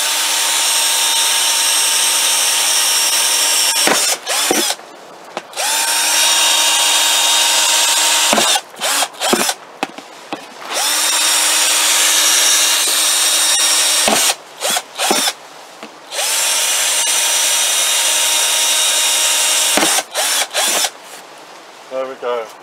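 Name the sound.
making drainage holes in a plastic bucket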